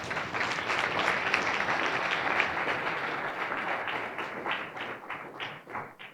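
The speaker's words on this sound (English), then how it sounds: "Let's give them a round of applause." A crowd gives a round of applause, dense and loud clapping that carries on steadily for several seconds before thinning out into a few scattered claps toward the end.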